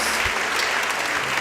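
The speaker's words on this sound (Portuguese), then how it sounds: "você pode aplaudir ao Senhor pela vida dela" Church congregation applauding together, a brief, dense wash of clapping at even strength with a faint low thump near the start.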